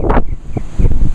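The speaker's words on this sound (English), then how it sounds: "Well, the wind is picking up." Wind gusting outdoors, buffeting the microphone in short low rumbling bursts over about a second, loud and close, with no talk.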